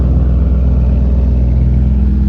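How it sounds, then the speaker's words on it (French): A McLaren supercar's engine rumbles in a steady, loud, low drone as it arrives at a New York charity supercar gathering. "Là-bas au fond, je vois encore une McLaren, celle-ci là qui vient d'arriver"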